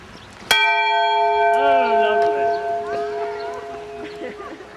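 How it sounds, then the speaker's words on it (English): A school bell is struck once, loud and close, then rings on with a long shimmering decay while a voice talks over the fading tone. "He's trying to ring that bell."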